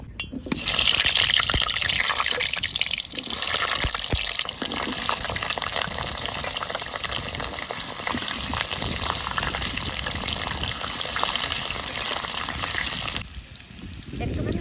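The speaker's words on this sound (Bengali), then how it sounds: "তেল গরম হয়ে গেছে এবার আলুগুলো ভেজে নেবো" Thick-cut potatoes go into hot oil to fry, setting off a loud, continuous rushing sizzle that holds steady for most of the time before dropping away near the end, with faint speech underneath.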